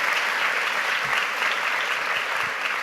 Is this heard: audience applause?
yes